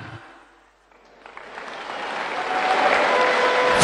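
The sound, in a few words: crowd applause at a ceremony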